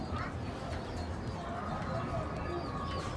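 Racing pigeons coo softly in a small loft of stock birds, a low steady murmur under nearby conversation, with faint chirps and rustling throughout.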